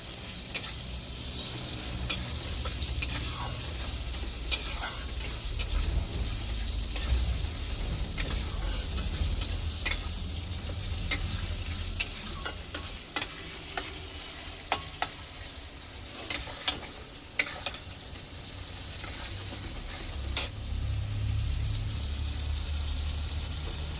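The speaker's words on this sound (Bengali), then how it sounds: "মশলাটা আমার ভাজা ভাজা হয়ে গেছে, তেল ছেড়ে গেছে।" Masala spices frying in oil for a fish curry, a continuous soft sizzle punctuated by sharp scraping clicks of a spoon stirring the pan at an irregular pace, close and with no voices.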